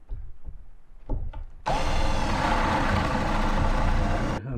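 Drilling holes in a Vauxhall Vivaro van panel during a camper conversion: a sustained, loud drill whine runs for about three seconds after a few light knocks and handling noises, then stops abruptly.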